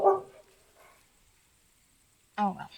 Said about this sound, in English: Oh well, that was my dog